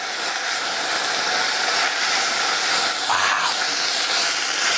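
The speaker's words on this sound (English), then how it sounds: "You heard it sizzling, that means it's working." A loud, steady hiss of vinegar sizzling in a hot pan, broad and continuous throughout, with no talking.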